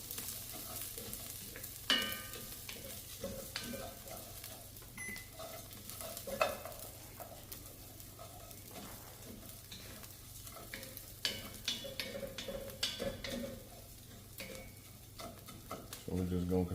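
Food browning in a pan on the stove over lowered heat, a quiet steady sizzle with occasional stirring scrapes and light clinks of a utensil, continuous and fairly faint throughout.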